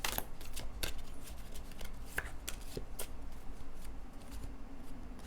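Tarot cards being shuffled over and over, a steady run of soft riffling snaps close by with a low background hum and no talking.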